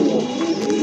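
A pair of Dobaj Karmona pigeons give a low, steady coo close by, one brief continuous burst with no talking.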